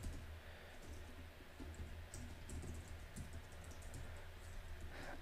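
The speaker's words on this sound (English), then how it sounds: "If I can type." Someone types on a computer keyboard while entering a server address during setup. The keystrokes are quiet, irregular clicks over faint room noise, and no one speaks.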